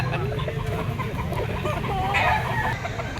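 A two-year-old yellow-legged banderado gamefowl rooster of Sweater Kelso bloodline clucks and calls close by at a game farm, a busy continuous rasp of fowl noise with background farm clamor.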